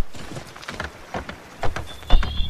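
Horse hooves clip-clopping in Assassin's Creed III, a video game, with irregular muffled thuds building to a couple of louder hits near the end amid game background sound.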